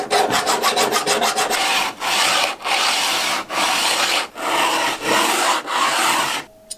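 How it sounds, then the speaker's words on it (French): A rough part of a cast iron hand plane, held in a vise, is filed by hand: about seven long, loud rasping strokes in a steady rhythm after a few quick short scrapes, close and alone. "ça vaut le coup de lui donner un petit coup de lime, parce qu'il est vraiment très très moche"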